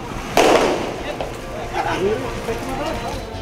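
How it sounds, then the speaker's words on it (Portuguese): A single gunshot fired upward from a handgun during a street scuffle over goods. The sharp report comes near the start, followed by commotion and people's voices. "O disparo foi para cima, saiu da arma deste homem que seria o suposto dono da mercadoria."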